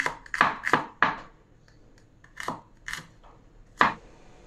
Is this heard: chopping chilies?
yes